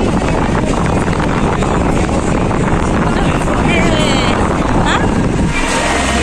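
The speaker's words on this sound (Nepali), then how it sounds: "शीतल हावा रहेछ नि त्यही भएर।" Strong breeze buffeting the microphone with a constant rushing roar, loud and unbroken throughout, with faint voices underneath.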